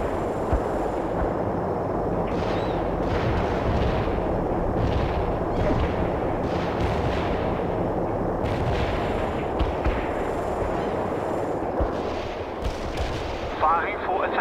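Artillery barrage in World in Conflict, a dense, loud, continuous rumble of repeated booms and overlapping blasts rolling on for the whole stretch, with scattered sharper reports on top.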